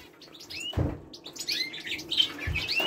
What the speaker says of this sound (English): So see, there's our canary. There's some zebra finches.